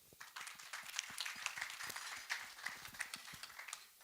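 An audience at a launch event in Kenya claps after speeches, a scattered round of applause with many distinct hand claps at a moderate distance.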